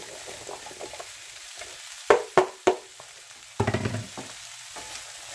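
Tender sweet potatoes being stirred in a pan on the stove top: a low, steady sizzle broken by a few scraping stirs, one pair and then a quick cluster, close by with no talk.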